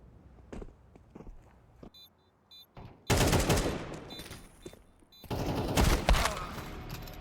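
Counter-Strike 2 gunfire: two loud, dense bursts of automatic shots, the first around the three-second mark and the second near five seconds. Quieter footsteps and scattered clicks come before them, with no talking.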